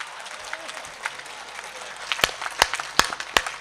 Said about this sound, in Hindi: तालियां कम हैं